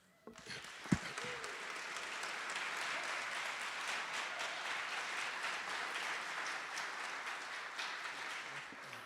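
A seated audience gives sustained applause for panelists and speakers at a talk on artist Carlos Villa, a dense, even patter of many clapping hands holding steady for several seconds after one loud early clap.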